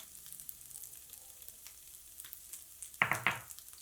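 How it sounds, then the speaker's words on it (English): Potatoes and okra stir-fry with spices in a pan, a soft steady sizzle with light scraping stirs and a louder clatter of utensil against the pan near the end. "And again stir fry."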